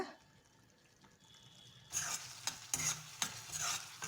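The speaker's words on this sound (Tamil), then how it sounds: "தண்ணி சேர்த்து நல்லா கிளறி விட்டுக்கோங்க" Goat spleen fry being stirred in a pan with masala and a splash of added water: quiet at first, then loud wet sizzling and scraping strokes close up, several rhythmic stirs.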